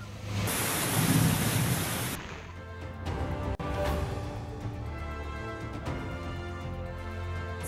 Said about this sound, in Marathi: विदर्भात मुसळधार पाऊस सुरू